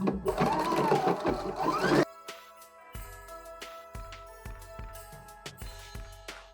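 A sewing machine stitches the center back seam of cozy indoor slippers, running fast and steady for about two seconds before slowing into a sparse series of distinct clicking stitches, close by.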